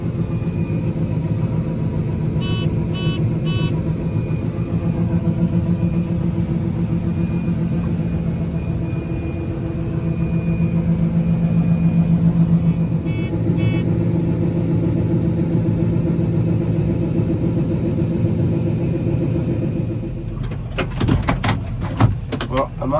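A farm truck's engine rumbles steadily while driving after a combine's grain tank is unloaded, a loud continuous mid-pitched drone with a burst of clattering near the end.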